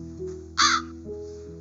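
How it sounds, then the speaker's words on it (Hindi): A crow gives one loud, harsh caw, close and alone. "एक प्यासा कौवा जो पानी की तलाश में इधर उधर घूम रहा था"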